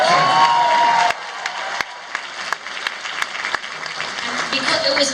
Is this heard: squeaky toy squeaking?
no